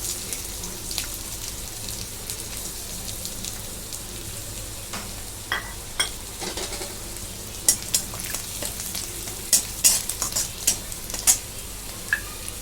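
Garlic sizzles steadily in hot oil in a kadhai over a high flame, with sharp crackling pops growing more frequent toward the end, close and without voices.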